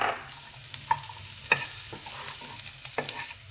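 Tortellini with pepperami being stirred in a frying pan, a soft steady sizzle with a few sharp scrapes and clacks of a utensil against the pan.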